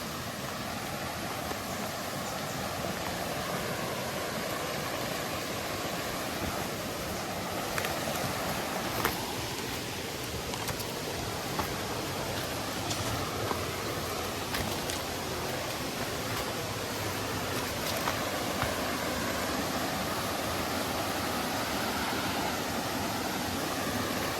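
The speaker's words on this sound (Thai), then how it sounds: "มาถึงน้ำตกแล้ว" Waterfall in a Thai forest, a steady broad rushing roar of falling water running continuously and evenly, close and enveloping.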